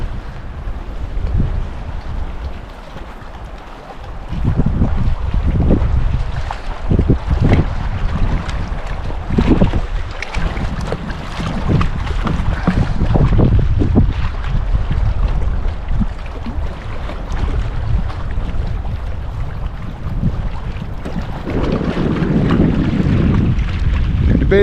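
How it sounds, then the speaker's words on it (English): Gusty wind buffets the microphone at a lakeside campsite in Algonquin Park, rumbling in irregular surges and lulls throughout, loud and close. "This one here, it's windy, but once you get up and over the hill, most of the wind seems to be blocked,"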